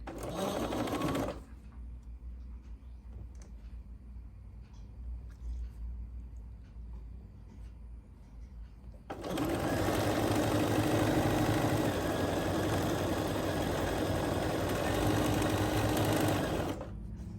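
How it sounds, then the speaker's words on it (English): A sewing machine needing oil runs steadily with a clattering, rattling bobbin, quieter at first and then louder and fuller for most of the clip. "When you hear that bobbin clattering like that, you need oil."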